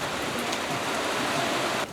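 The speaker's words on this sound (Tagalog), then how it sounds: "Ayun na nga, bumuhos na, ang lakas." Heavy rain pours down in a dense, steady roar of hiss and splatter, close and loud, with no voices.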